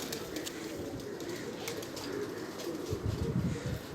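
Shikra breed pigeons coo softly and steadily through the whole stretch, a low, continuous murmur of several birds nearby with no talking.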